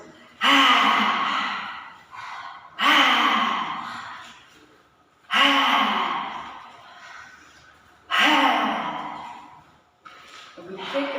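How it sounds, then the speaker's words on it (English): Intense breathing during a kriya yoga exercise, four loud forceful breaths with gasping inhales and sighing exhales about every two to three seconds, close and alone. "and we breathe intense"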